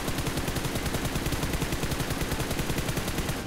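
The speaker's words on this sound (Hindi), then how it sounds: "हुआ क्या कि फायरिंग हुई" Sustained rapid automatic gunfire in BGMI, a continuous fast rattle of shots at steady rhythm throughout, dense and loud with no talk.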